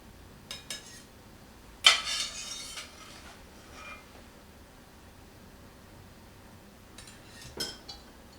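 Plates and cutlery clink a few times while fennel and salmon are plated in a home kitchen, with one sharp clatter near the start, softer taps later and a final chink, all fairly close against a quiet background.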